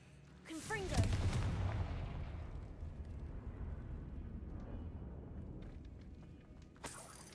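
A Confringo blasting spell fired in Hogwarts Legacy bursts into a loud fiery explosion with a shattering crackle that rumbles and fades over several seconds, then a second sharp burst at the end.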